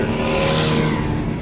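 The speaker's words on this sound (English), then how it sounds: "This car sounds so good, bro." A 2000 Saleen S281 with a swapped-in Coyote V8, its engine a loud, close, steady growling rumble held without a break.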